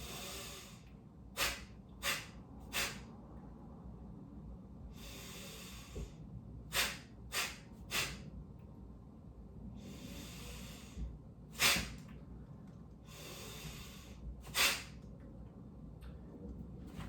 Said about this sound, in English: I'm going to do that partial percussive breathing as I come down first before doing a full release